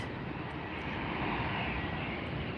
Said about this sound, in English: this is the Lufthansa 747 we're looking at right now